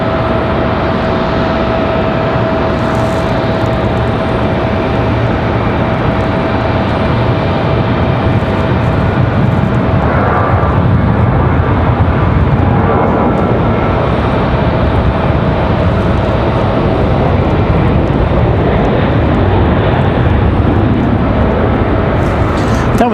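A Delta Boeing 737 jet roars at Raleigh Durham International Airport, a loud broadband engine rumble that holds steady throughout, as if heard from nearby on the field.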